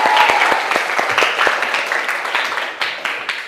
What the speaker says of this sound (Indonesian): Tepuk tangan lagi buat mereka.